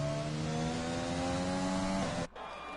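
A Mercedes race car on its out lap in a racing video game, warming its tyres: a steady, loud engine drone with a gently rising pitch that cuts off abruptly near the end.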